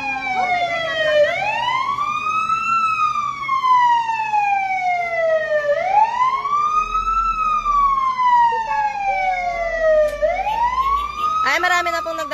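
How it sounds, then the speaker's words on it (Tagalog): Several fire truck sirens arrive at a warehouse fire in Lingunan, Valenzuela City, their loud overlapping wails rising and falling continuously over street noise, with a faint voice underneath. "marami na pong nagdadatingan na bumbero"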